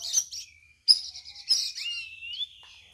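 A sooty-headed bulbul (cucak rawis) sings close by in a series of bright, sweet chirps and whistled phrases, with a rising whistle near the end and short pauses between bursts under an overcast sky.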